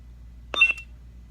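A single short electronic beep from a lightsaber sound board button held down in mute mode, a brief, quiet tone against near silence.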